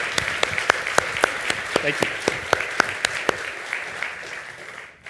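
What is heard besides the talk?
audience applause for outgoing board members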